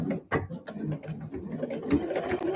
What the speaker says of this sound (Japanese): 1センチ先に針を下ろして、返し縫いからスタートします。